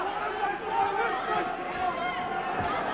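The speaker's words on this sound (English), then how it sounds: "Benn needs all the noise that the Toon Army can raise." Newcastle's Toon Army crowd at a WBC super middleweight boxing bout cheering for Nigel Benn, a rolling mass of chanting and shouting from a large arena audience, fairly distant and even, with some chatter mixed in.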